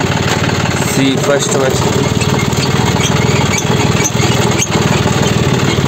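A farm tractor engine runs nearby at a steady, rhythmic chug, loud and continuous through the whole stretch, while someone speaks briefly over it.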